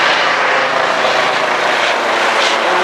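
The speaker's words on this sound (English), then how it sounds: "And we have lots of police helicopters overhead." Loud, continuous rotor and engine roar of police helicopters overhead in Stockholm, steady and close with a faint rhythmic chop.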